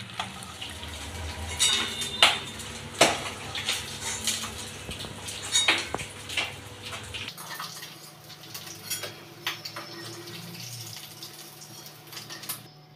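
Fried fish heads being lifted from a pan onto a plate, a series of close clinks and scrapes of utensil and dishware with a soft watery hiss, then quieter background after the midpoint.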